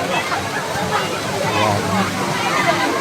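Waterfall at Balite Falls resort in Amadeo, Cavite: a steady, broad rush of falling water fills the whole stretch, with faint crowd babble from bathers mixed underneath.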